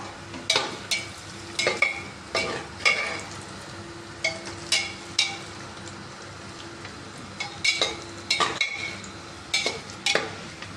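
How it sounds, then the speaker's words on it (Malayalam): Raisins frying in hot oil for chicken biryani, with repeated scraping and stirring strokes of a spoon against the pan in uneven bursts over a soft background sizzle; no voices. "ഇതിലേക്ക് നമുക്ക് കുറച്ച് മുന്തിരിങ്ങ ഇട്ട് കൊടുക്കാം"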